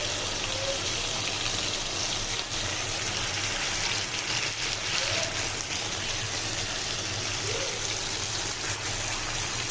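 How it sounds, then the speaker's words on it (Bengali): Water poured into a pot of vegetarian curry, a steady broadband gush and trickle running continuously for about ten seconds, fairly loud and close, with no clear talk over it. "এটা এখন একটু পানি দিয়ে দিব"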